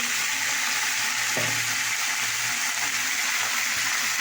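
Tomato, egg and potato fry in a pan with a steady close sizzle over spiced oil, and a spoon scrapes and stirs them with a brief clatter near the middle.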